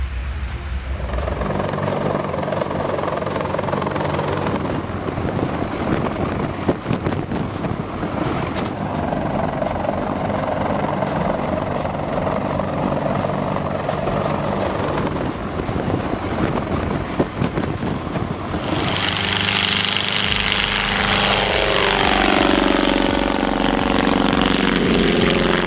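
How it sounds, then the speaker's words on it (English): A C-130H Hercules turboprop flies past at an air show, producing a loud, steady propeller drone with a deep throb that continues throughout, the tone shifting near the end as the aircraft passes. "the C-130H Hercules wowed spectators with dramatic propeller vortices during its flight"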